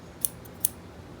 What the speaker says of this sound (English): It's good to have scissors that snip at the very end